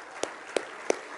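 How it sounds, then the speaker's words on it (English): A church congregation at a Sunday service claps in a steady rhythm: four sharp, evenly spaced claps about a third of a second apart, moderately faint, with no talking between them. "Let's just give the Lord a hand clap for what he's already done."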